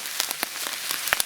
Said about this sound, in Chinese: 崩上来了，应该是酸菜崩了